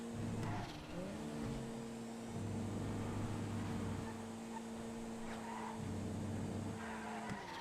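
A drift car slides in GTA 5 with a loud, sustained tire squeal whose pitch shifts and wavers, breaking off and resuming over a steady engine drone.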